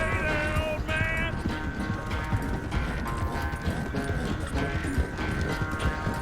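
Horse hooves pounding in a steady galloping rhythm during a race in Red Dead Redemption, continuous and fairly loud, with faint tonal game music layered above.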